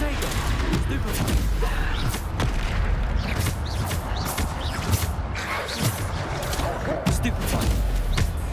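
Bombarda explosion spell in Hogwarts Legacy amid rapid, repeated booming impacts and crackling bursts during combat, steady and loud throughout, with a voice speaking over it.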